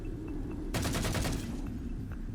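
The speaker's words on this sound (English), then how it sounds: "You will hear a distant sound of a gun going off." A distant gunshot sound effect: a short burst of several rapid cracking reports in quick succession, fairly muffled and set against a low background rumble.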